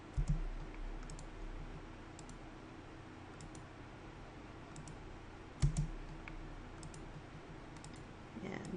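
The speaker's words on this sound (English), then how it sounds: "So I can click where I'd like to add them." A computer mouse clicking while working on NURBS surface points in AutoCAD 3D modeling: sparse, sharp single and double clicks, close and faint over a quiet background hum, with no talk.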